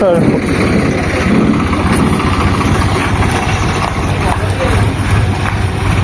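A tractor engine runs loud and close, idling with a steady low chugging throb that continues without a break, on a trip hauling a load of gravel.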